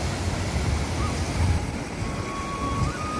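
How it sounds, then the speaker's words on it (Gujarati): River water rushes through a village channel fed from a dam upstream, a steady broadband roar of flowing water heard close and continuous, with wind buffeting the microphone throughout. "શું કેવું પાણી જાય છે સરસથી."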